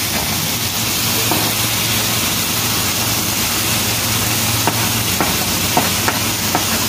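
Fried tofu, added to a pan with meat, sizzling steadily and loudly with a constant hiss, with a few faint clinks of stirring near the end.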